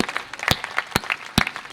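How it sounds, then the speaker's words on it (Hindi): Applause at a kavi sammelan poetry gathering, fairly thin and scattered with a few loud distinct claps standing out from a sparse patter. "एक बार पूरा सदन तालियां बजा दे।"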